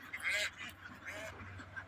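A short burst of ducks quacking close by on an open-field countryside duck farm, a few rough calls in quick succession.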